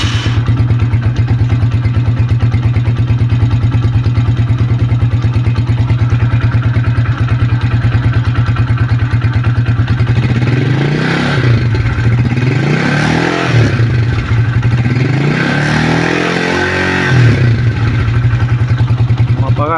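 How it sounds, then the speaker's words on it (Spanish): A motorcycle engine, restarted after a new spark plug is fitted, runs at a steady loud idle, then revs up and down in several rising and falling swells near the end. "volvemos a encender la moto."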